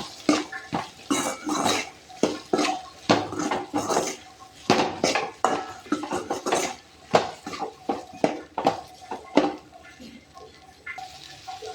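Okra being stirred in a pan for vendakkai puli kulambu: loud, close metallic clanks and scrapes of the spatula against the pan come in an irregular, repeated rhythm throughout.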